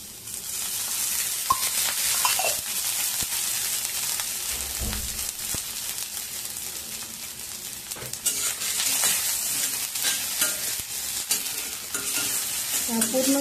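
Onion stir-fries in a little oil in a new iron kadai being seasoned over a high gas flame: a continuous near sizzle with repeated spatula scraping and stirring, no talk.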